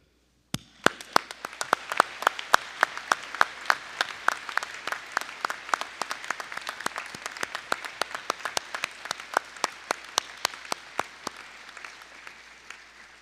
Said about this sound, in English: Please join me in a round of applause to recognize them.